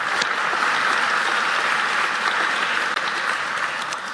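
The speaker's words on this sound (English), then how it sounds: "Senator Joseph Griffo, please give him a round of applause." Steady applause fills the hall for Senator Joseph Griffo at a county State of the County Address, a thick, continuous crowd clapping at an even level, sustained and fairly loud without speech.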